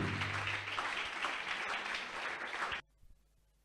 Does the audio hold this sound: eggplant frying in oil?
no